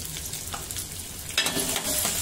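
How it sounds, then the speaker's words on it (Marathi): Ginger, garlic and green chili sautéing in hot oil for veg manchow soup, a close steady sizzle that suddenly swells louder partway through as stirring stirs up a sharper crackle. "बघा तेल गरम झालंय. मी अद्रक टाकलेलं आहे, लसूण, मिरची"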